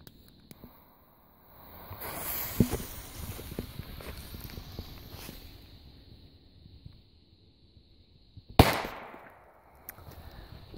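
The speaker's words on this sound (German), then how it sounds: "Und jetzt zum Schluss noch die Super Böller 1." A Weco/Helios Super Böller 1 firecracker goes off outdoors with a single loud, sharp bang late in the stretch. Quieter rustling and ambient noise come before it, and a short fading echo follows.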